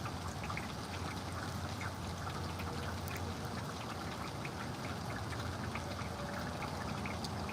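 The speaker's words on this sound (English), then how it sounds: "but no, it's still raining." Steady rain falling outdoors, a continuous soft hiss with scattered drips, faint and even, with no voices.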